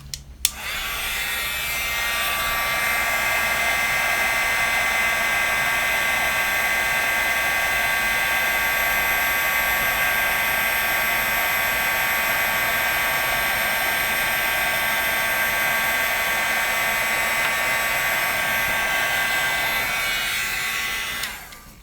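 An electric heat tool blows steadily for about twenty seconds, a loud, even, hissing whir melting embossing glaze over texture paste, starting and stopping abruptly with no talk.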